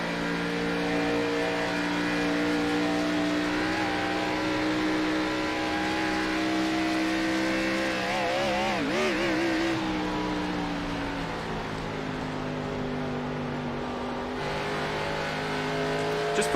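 Race cars in a Kentucky oval race roar steadily throughout, engines droning at close range with pitch-shifting passes as a line of cars goes by, the sound continuous and loud with no talking.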